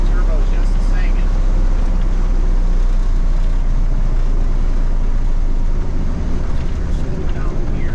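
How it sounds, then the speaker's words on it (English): A cabover truck on the road while driving, its engine droning loudly and continuously with a turbocharger whine riding over the heavy rumble from start to finish. "Turbo's just singing"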